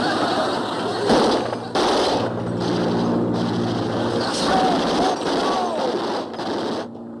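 Bursts of gunfire crackle and pop in rapid runs, loud and close, with brief shouting voices mixed in among the shots.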